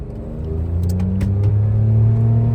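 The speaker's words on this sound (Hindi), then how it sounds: "अब मैनुअल तरीके के साथ गाड़ी का 0 to 100 टाइम नोट करेंगे। चल मोटे चुक दे गड्डी।" A Suzuki Cultus converted to Swift GTI spec with a 2ZZ engine accelerates hard for a 0-100 run. The engine note climbs steadily in pitch, loud and close, with a strong rumbling drone.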